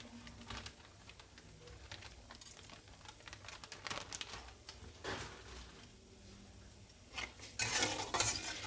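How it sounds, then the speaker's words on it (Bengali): Crushed cardamom, cinnamon, cloves and whole peppercorns go into hot oil for a tempering, giving faint, scattered crackles and light spoon clinks, with a brighter sputter burst near the end. "থেতো করে রাখা দুটো এলাচ, দারচিনি, লবঙ্গ, গোটা গোলমরিচ, এটাও আমি ফোড়নে অ্যাড করে দিচ্ছি।"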